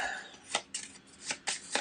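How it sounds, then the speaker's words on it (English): Arkham Horror 3rd Edition cards being shuffled on a table: five short, crisp riffling bursts, close and fairly quiet, spaced at irregular intervals with brief pauses between them. "Give them a good shuffle"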